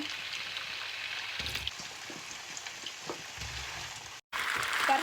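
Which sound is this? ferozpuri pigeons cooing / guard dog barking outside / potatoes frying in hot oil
potatoes frying in hot oil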